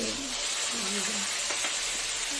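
Green chilli paste masala sizzles steadily in a hot pan, a dense continuous frying hiss with faint scraping from stirring, while someone talks over it.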